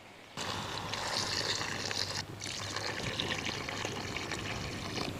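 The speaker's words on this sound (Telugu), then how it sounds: "ముక్కలకు సమానంగా నీళ్లు పోసుకుందాం" Water poured steadily into mutton curry with spiny gourd in a clay pot on a stove, a continuous soft splashing trickle with one brief break, close and fairly quiet.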